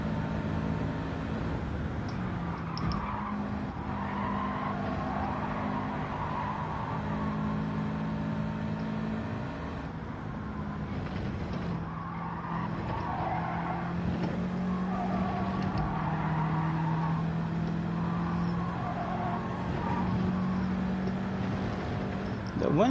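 A race car engine in Gran Turismo 7 drones steadily throughout, rising and falling as it revs and shifts, with faint tire and wind noise over a continuous mid-level hum.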